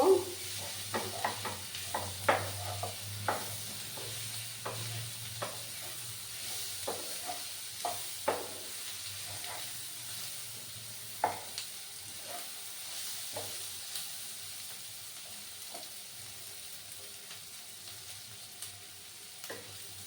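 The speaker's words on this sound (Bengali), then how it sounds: "মিনিটের মতো আমি একটু ফ্রাই করে নিচ্ছি ঠিক আছে বন্ধুরা দেখো বন্ধুরা আর কিছুক্ষণ আমি নাড়াচাড়া করবো" Bottle gourd peel fries in a pan while it is stirred. A low, quiet sizzle carries on throughout, punctuated by repeated light taps and scrapes from the stirring utensil, with no voices.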